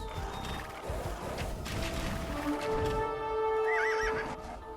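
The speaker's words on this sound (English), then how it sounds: "Do you hear the rhythm of boots and the din of thundering hooves?" Horses neigh and whinny with clip-clopping hooves and clanking mechanisms in a medieval strategy video game, a loud whinny rising near the end over steady background clatter.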